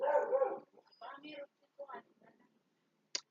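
Dogs visiting a house bark and yip in three short bursts, loud and close, with a brief sharp noise after a pause at the end.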